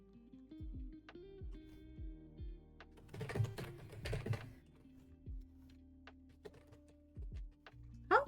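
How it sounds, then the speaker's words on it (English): Keystrokes on a computer keyboard come in quiet, irregular bursts of clicks and taps, with a denser flurry in the middle, faint and close with no voices. "How well can you hear my keyboard, by the way?"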